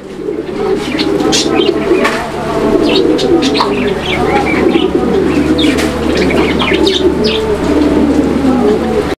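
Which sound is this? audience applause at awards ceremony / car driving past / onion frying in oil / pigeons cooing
pigeons cooing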